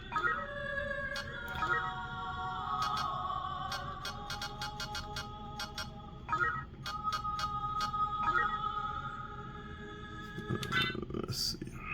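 Castlevania game music playing from an RGB10MAX3 Pro handheld, a steady chiptune-style melody with sustained tones and rapid repeating beeps, fairly close and continuous throughout.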